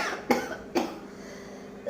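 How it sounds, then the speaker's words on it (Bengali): Someone coughs while cutting chili peppers in a home kitchen: two short, sharp coughs close together near the start, then a third cough at the end, with a quiet room between them. "কি কাশি উঠছে লঙ্কায় দেখো"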